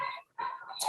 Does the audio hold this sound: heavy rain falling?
no